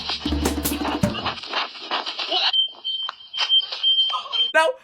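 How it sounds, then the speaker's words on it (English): A shrill, piercing personal panic alarm wails continuously, with shouting and commotion around it at first. "Then Paul sets his panic alarm off."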